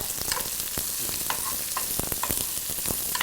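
Stuffed vegetables filled with slit green chillies and ginger frying in a pan, giving a loud, dense sizzle with crackles and spatula stirs throughout and no voices.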